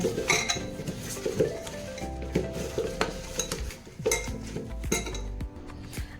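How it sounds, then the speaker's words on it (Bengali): Potatoes are mixed with ginger-garlic paste, spices and mustard oil in a metal pot for chicken dum biryani, with repeated scraping, clinking utensil strokes close up. "এবারে আলুটাকে আমি ভালো করে মিক্স করে নেব।"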